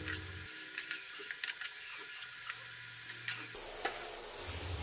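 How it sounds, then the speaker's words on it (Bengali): A spice mixture being stirred with a spatula in a frying pan (kadai) for a home-style cauliflower roast gives a steady scraping, stirring clatter with a soft sizzle underneath, growing brighter and hissier toward the end. "এবার মিশ্রণটাকে ভালোভাবে খুন্তি দিয়ে নাড়াচাড়া করতে হবে।"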